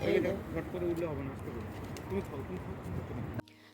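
Pigeons coo softly nearby in low, throaty warbles, with background chatter and street noise around them; the sound cuts off abruptly near the end.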